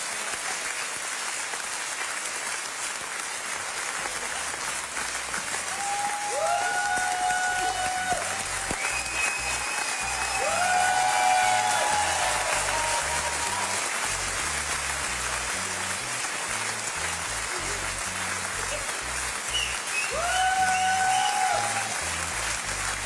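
A studio audience at a Let's Dance ballroom show after a cha-cha claps in a sustained, moderately loud wash, swelling in a few waves, while faint music tones sound underneath.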